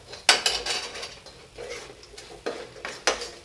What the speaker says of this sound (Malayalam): കായപ്പൊടി, ഉലുവാപ്പൊടിയും കൂടി ഇട്ട് നന്നായിട്ടൊന്ന് ഇളക്കുക.